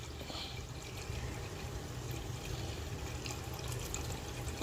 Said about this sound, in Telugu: 1 లీటర్ నీళ్ళు వేసుకున్నాము.